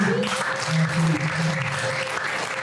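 A church congregation claps together in a sustained, dense burst of applause that fills the room, loud and close, with a voice speaking over it.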